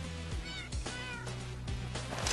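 Two pet cats in Minecraft meow several times in close succession, clear and near, with no talking.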